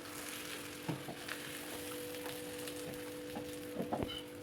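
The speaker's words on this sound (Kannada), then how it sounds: "ಇವಾಗ ಸ್ವಲ್ಪ ಹೆಂಚಿಗೆ ಎಣ್ಣೆ ಹಾಕ್ಕೊಂಡು ಕಟ್ಟಿಕೊಂಡಿದ್ವಲ್ಲ ಅದನ್ನು ಹೆಂಚು ಮೇಲೆ ಹಾಕಬೇಕು" Chana dal holige frying on an oiled griddle, a faint steady sizzle with a constant electrical hum beneath and a few soft taps or scrapes near the end.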